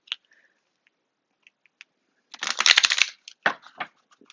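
An oracle card deck is shuffled by hand in sparse quiet clicks and taps, then a dense riffling burst and a few more short rustles close by, with no talk.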